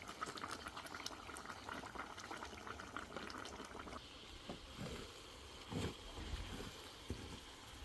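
A large pot holding 25 kg of jollof rice bubbles with oil: a soft, continuous burble and popping, heard close but fairly quiet, with occasional louder plops near the end.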